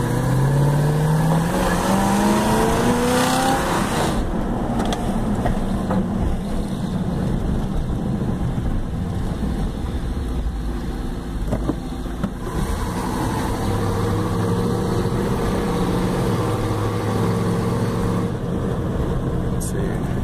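A 1989 Chevota engine-swap truck accelerating hard, the engine note climbing through rising revs and then settling into a sustained, loud roar with tire noise as the wheels spin, recorded from inside the cab.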